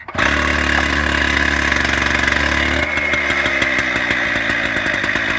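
A gas-powered chainsaw, braced under a knee and started by pulling the starter cord, fires up and runs loud and steady on the start setting at high revs, then settles to a rougher, pulsing idle.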